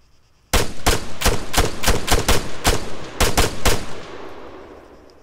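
In ArmA 3 about a dozen loud, close gunshots fire in quick succession, a steady rapid volley with brief gaps, ending in a fading echo.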